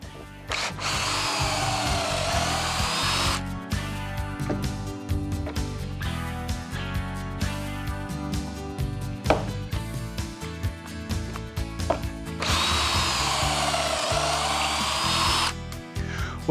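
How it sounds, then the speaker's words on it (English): A power drill whines up to speed and bores pocket holes into wooden table rails held in a jig in two long runs, with clattering handling and shuffling between them. "and then drill the holes."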